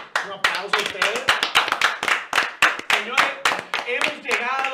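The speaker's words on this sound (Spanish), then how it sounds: "Un aplauso a ustedes." Sharp hand claps from a few people on a Spanish-language talk radio show, sounding close and irregular while a voice speaks over them throughout.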